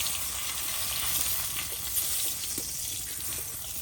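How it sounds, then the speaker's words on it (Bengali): Cumin, garam masala, dry red chilli and bay leaf sizzle in hot oil left over from frying rohu fish, giving a loud, steady, close crackling hiss with no talk. "ওই মাছ ভাজার তেলে এই জিরে গরম মশলা শুকনো লঙ্কা আর তেজপাতা দিয়ে দিলাম"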